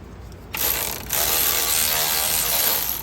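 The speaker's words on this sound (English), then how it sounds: "here I'm going to be taking off these two bracket bolts" Ratchet with a 13 mm socket loosening bracket bolts on a 2011 front-wheel-drive 3.6 litre Dodge Avenger during a passenger-side CV axle job, a steady rapid clicking that starts after a brief quiet moment and runs loud and close.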